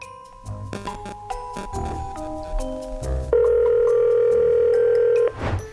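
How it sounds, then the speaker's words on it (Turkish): A telephone dial tone during a call in a children's play scene, heard as a loud, steady tone for about two seconds after some clicks and short beeps, with no talk over it. "Ben bir Özlem Hanım'ı arayayım."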